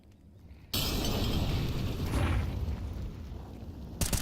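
A flashbang grenade goes off in a Counter-Strike match, a sudden loud broadband blast after a quiet start, followed by a long sustained ringing roar that fades slightly before another sharp burst at the end.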